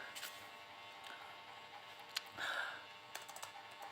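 Key clicks from typing on a Dell Latitude 7390 laptop keyboard, a quiet, soft run of scattered taps at close range with no talking.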